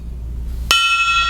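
A single gong strike on a podcast set: one sudden hit that blooms into a bright, sustained metallic ring, loud and close, ringing out without talk.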